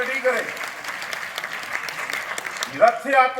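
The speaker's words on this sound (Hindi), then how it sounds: "जोरदार ताली बजाओ।" An audience claps steadily, a moderately loud patter of many hands, with a voice speaking over the start and end.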